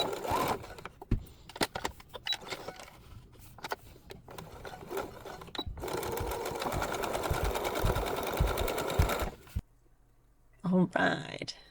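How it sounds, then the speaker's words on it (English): A sewing machine backstitches along the bottom seam of a small fabric bag, running in short stop-start bursts and then a sustained steady whir, with brief handling noises and a pause near the end. "So backstitch all those."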